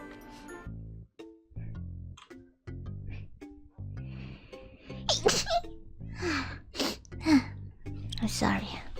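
Several small, high-pitched sneezes from a woman, mixed with gasps and brief voiced sounds, with speech running between them throughout.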